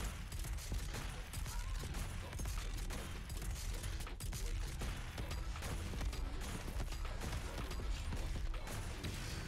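Rapid gunfire and mechanical weapon-swap clatter from Doom Eternal during a speedrun, dense and continuous with sharp bursts throughout, loud and close with no talk.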